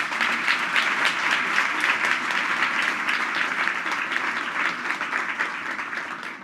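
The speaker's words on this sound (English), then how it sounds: "give a round of applause for all of our, not only our finalists, but our nominees as well" Sustained applause from a large audience at an awards ceremony for finalists and nominees, dense steady clapping that fades slightly toward the end.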